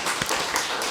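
Brief burst of clapping from a church congregation, a short patter of hands lasting under a second with no talk over it.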